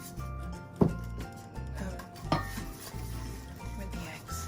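Ginger cake batter being mixed with a whisk in a bowl, soft repeated scraping and clinking strokes against the bowl at close range, fairly quiet, with a couple of sharper knocks.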